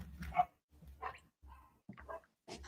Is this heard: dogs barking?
yes